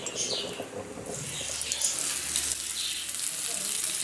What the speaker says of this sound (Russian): Сейчас я рыбку готовлю. Чесночок в масло